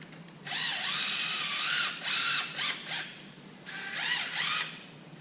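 A power ratchet whirs in several quick bursts as it loosens a 12mm belt tensioner bolt on an OM617 diesel engine, close up and loud, with brief pauses between the spins.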